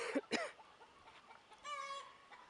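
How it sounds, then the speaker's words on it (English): Chickens cluck in short bursts on a farm, with a drawn-out higher call near the end; a few birds fairly close in a quiet setting. "a bunch of random chickens."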